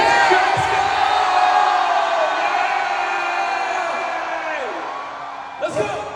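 A concert crowd shouts and cheers together on cue, a loud sustained roar of voices yelling "Let's go" that slowly fades, with a few sharp knocks near the end.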